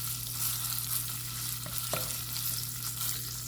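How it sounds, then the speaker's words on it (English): Food fries steadily in oil rendered from meat in a pan, a constant loud sizzle with a couple of faint clinks of stirring. "We want some of that oil from that meat because we're gonna have to fry this."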